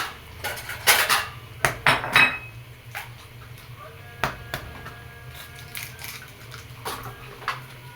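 Plates and dishes clink and clatter in a kitchen while breakfast is set out, with sharp knocks spread across the scene, dense at first and then sparser, over a low steady background hum.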